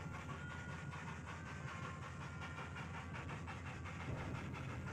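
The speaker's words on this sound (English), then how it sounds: "Once everything was ready, Gunter slowly set off" Small mine train on rails setting off slowly, a faint continuous rumble with soft rhythmic clicking of wheels over the track, distant and steady.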